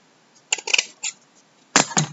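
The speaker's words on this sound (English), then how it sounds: "And so I'm going to cut a piece of blue," Scissors snip through a piece of dark blue ribbon in a few quick, close, crisp cuts, two short clusters separated by a brief pause in an otherwise quiet room.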